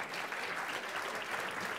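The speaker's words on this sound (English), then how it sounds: "we need a big round of applause as you're leaving." An audience at the European Resources Forum 2018 conference applauds, a dense, steady wash of clapping from many hands for a brief moment.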